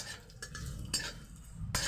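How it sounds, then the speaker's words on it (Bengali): Garlic and poppy seeds frying in ghee in a pan for red spinach, a soft sizzle under a few brief scraping stirs and light clinks of utensil on metal, close and fairly quiet. "রসুন আর সঙ্গে পোস্তটাকে একটু ভেজে নিচ্ছি"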